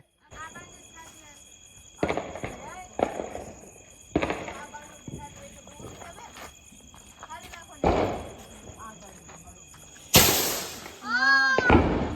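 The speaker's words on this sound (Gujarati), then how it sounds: "મજા આવે છે કેમ ફટાકડા ફોડવાની?" Diwali firecrackers burst one after another at a family celebration, several sharp bangs spaced a second or two apart against insect chirping, with people talking between the blasts.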